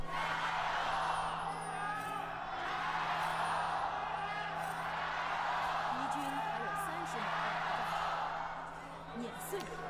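A large esports finals crowd at the LPL Finals, AL versus TES, roaring and whooping as a steady wall of cheering that swells and dips across the arena.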